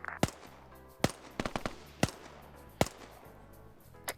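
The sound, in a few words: gunfire in an Arma military video game op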